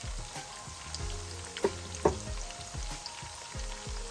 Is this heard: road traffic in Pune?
no